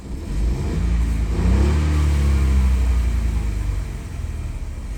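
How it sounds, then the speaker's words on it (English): A 2017 Ford Focus engine revs steadily under load as its tiny turbo spools up, a continuous rising mechanical whirr close by. "I do hear the little turbo spooling up."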